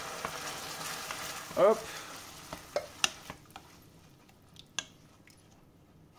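Onion browned in a pan for a wheat, tuna and tomato gratin gives a soft sizzle as tomato pulp goes in, with scraping and clinking stirring sounds. A brief spoken word occurs.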